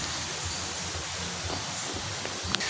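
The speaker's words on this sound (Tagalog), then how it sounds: "Hala, kusaking hangin." Strong wind blowing outdoors in a steady, loud roar with a constant rushing hiss that barely varies and one small gust-like knock near the end.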